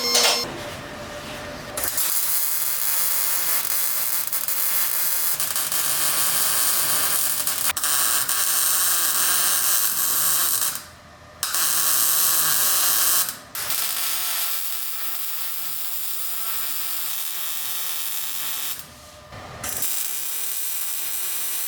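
Welding dirty metal for a radiator mount on an abandoned LS-swapped FC RX7 gives a loud, continuous crackling hiss that runs in long bursts, broken by a few brief pauses.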